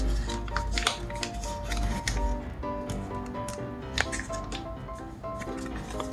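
Sheets of paper are creased and refolded by hand for an origami spinning top, giving dense crinkling, rustling and sharp crisp snaps close by, with no voices.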